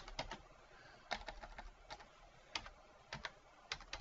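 Computer keyboard typing while entering a parameter in CAD software, heard as irregular clusters of crisp, close keystroke clicks with brief pauses between bursts.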